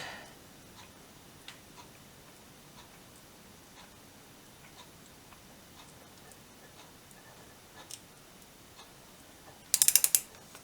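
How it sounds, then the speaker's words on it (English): Parts of a BSA 350 motorcycle engine being turned over by the crank: faint, sparse mechanical clicks over quiet room noise, ending in a brief louder burst of rapid ratcheting clicks. "Let's just try letting that move with the crank."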